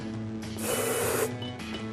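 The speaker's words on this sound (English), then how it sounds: "you're gonna spray some of this hairspray in there and put the cap right back on really fast" Hairspray hisses into a glass jar in one steady burst of about half a second, close and fairly loud over a humming background.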